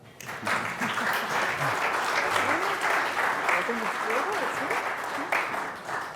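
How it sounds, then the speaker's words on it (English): An audience at a debate event on powering Africa's industrial growth applauds as panelists take the floor, steady dense clapping lasting several seconds, with a voice talking over it through the middle. "A round of applause for..."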